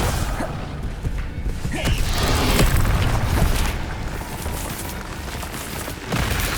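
Dense magical spell effects from Hogwarts Legacy, including Accio and Incendio, as continuous whooshing, crackling and booming bursts with fiery roaring, loud and busy without pauses.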